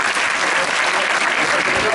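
An audience applauds after a preview film screening at a Pathé cinema, with dense, steady clapping filling the room at an even level throughout.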